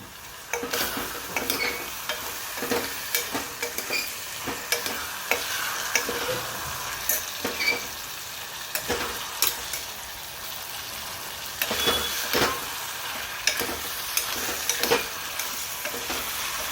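A spoon stirs cluster beans, potatoes and onion frying in a pan, producing repeated scraping strokes over a constant soft sizzle, close and clear without any voices.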